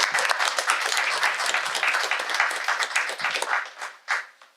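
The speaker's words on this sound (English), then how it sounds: "So I would like for you to give the staff a round of applause." Applause for city staff at a council meeting rises as a sustained, dense round of clapping from a crowded room, then tapers off in the final second.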